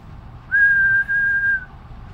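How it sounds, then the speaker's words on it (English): A person whistles one steady, high note for about a second, clear and close, in an otherwise quiet room, testing a circuit board's sound sensor. "The whistle, the sound sensor seems to pick up higher frequency sounds."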